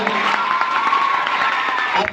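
A crowd at the opening ceremony of a youth festival claps and cheers loudly and steadily, with whoops and children shouting mixed into the roar.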